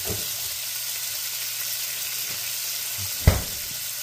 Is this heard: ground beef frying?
yes